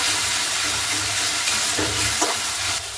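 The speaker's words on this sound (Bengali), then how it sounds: "ভালো করে মশলাটাকে কষিয়ে নেব" Masala spice paste with sugar and Kashmiri chilli powder sizzles and fries in a pan, a close, steady crackling hiss with a few stirring scrapes.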